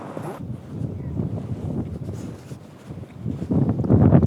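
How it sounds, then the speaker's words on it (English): Strong gusts buffet an outdoor microphone on a windy day in Shelbyville, Indiana, a loud low rumbling roar that swells and eases, briefly dropping before surging hardest at the end. "Apparently I picked the windiest day one could possibly pick to visit Shelbyville, Indiana."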